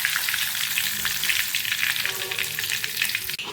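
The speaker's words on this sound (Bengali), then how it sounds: "এবার আমি গোটা গরম মশলাগুলো তেলের মধ্যে দিয়ে দেবো। ভালোভাবে একটু ভেজে নেব হালকা করে।" Whole garam masala spices fry in hot oil for chicken khichdi, a bright, loud crackling sizzle right up close, steady throughout with a brief dip at the very end.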